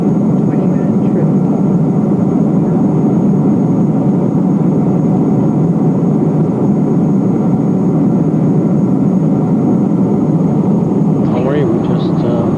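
Cabin of an airliner on a long flight to Germany fills with a steady, loud low-frequency engine drone and airflow hiss that runs unbroken throughout, with a faint chime or click near the end.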